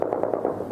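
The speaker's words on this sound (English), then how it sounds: "Occasional gunfire ripped through the air." Gunfire in Kabul during the Taliban takeover: a rapid, even burst of about eight muffled shots, echoing at mid-distance with no voices.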